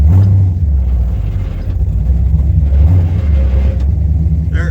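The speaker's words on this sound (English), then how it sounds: "If I roll into it, I can get it to rev, but just a quick pop of the throttle, there's just not enough there." A V8-type car engine fitted with FiTech fuel injection rumbles loudly and steadily, with brief throttle pops that swell slightly but never climb into a full rev; heavy low-end drone throughout.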